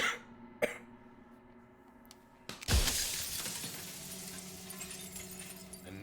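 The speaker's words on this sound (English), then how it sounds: "Another crack forms and another, turning the mirror into jagged shards of broken glass." A mirror cracking apart into jagged glass shards in the video game Slay the Princess: a sharp crack, then a loud shattering burst that trails into a sustained glassy ringing wash over a low ambient drone.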